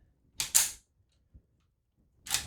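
Type 14 Nambu pistol with no firing pin being dry cycled, its slide racked in two sharp mechanical clacks close up, a faint click, then another pair of clacks after a short pause.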